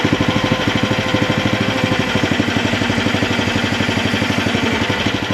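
A Chinese mini excavator's engine runs steadily just above low idle, with a close, even, rapid chugging pulse that holds throughout and no talk over it.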